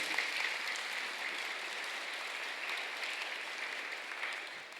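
A church audience applauds at a Christian Carnival preaching event in Portuguese, a steady, even wash of many hands clapping that holds for about five seconds and tapers slightly at the end, with no voices over it.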